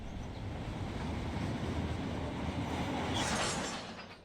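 Train rolling and derailing in the Run 8 train simulator game, a steady broad rumble of wheels and cars with a brighter grinding, hissing surge near the end before it fades.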